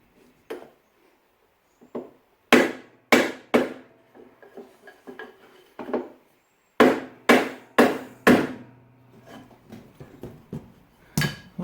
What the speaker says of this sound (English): I'm going to use a wooden block and a hammer to tap that bearing down into place